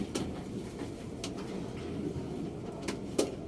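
Pigeons coo softly in a loft in Arayat, Pampanga, a low murmuring burble that carries on steadily under faint background noise, with a few brief sharp knocks and clatters mixed in.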